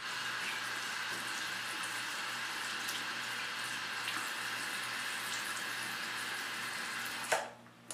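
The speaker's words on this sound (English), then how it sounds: "I wet it, roll it into the soap, and then I just rub it around with my fingers." Running water rinses a soaped makeup brush spoolie at a sink, a steady soft splash throughout that cuts off near the end with a brief clatter.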